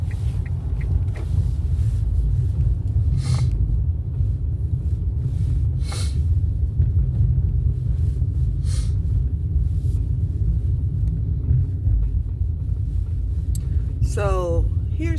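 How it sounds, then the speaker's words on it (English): Heavy road traffic makes a continuous low, rumbling drone, with occasional passing swishes and a brief rising whine near the end. "that's a lot of traffic"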